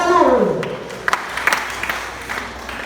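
A church congregation applauds during a worship service. Scattered claps come in a short burst while a voice speaks over the start.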